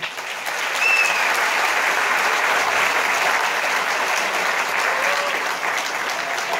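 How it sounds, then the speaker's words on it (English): An audience at a children's school annual function claps in a sustained, even burst of applause, loud and continuous after a brief rise at the start, with no talking over it. "let's begin with some huge energy and sound and claps"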